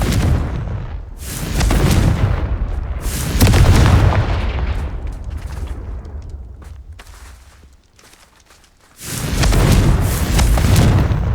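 Deep, loud booming blasts from a Confringo explosion spell cast in Hogwarts Legacy, with one sustained rumbling explosion after another, a short lull, then another heavy blast near the end.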